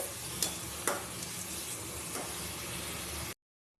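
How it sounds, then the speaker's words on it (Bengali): Eggplant and spices sautéing in a pan for hilsa fish curry: a steady, close frying hiss with a couple of sharp scraping stir strokes that cuts off abruptly near the end. "এটা চলো ভালো করে কষিয়ে নিতে হবে বেগুনগুলো দিয়ে মশলা দিয়ে"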